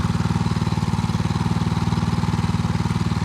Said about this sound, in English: my homemade lawnmower powered outboard motor